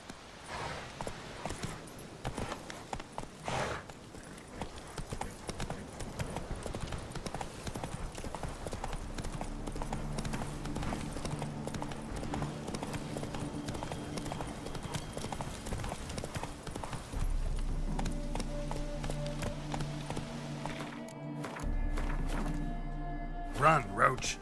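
Roach, the horse from The Witcher 3 video game, gallops with steady, continuous hoof clip-clop and occasional thuds under a game soundscape, with the hoofbeats growing heavier toward the end and people talking over them.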